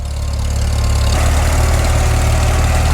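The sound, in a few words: old M-M tractor engine running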